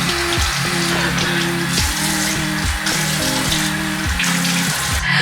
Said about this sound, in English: Okay, so I have washed my face off, as you can see.